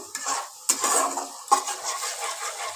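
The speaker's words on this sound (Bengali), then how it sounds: "এবার মশলাটাকে কষিয়ে নেব ভালো করে" Spice masala stirred and sautéed in a pan on a gas flame, with a spoon scraping and clinking against the metal in sharp strokes over a soft sizzle, close by and with no voices.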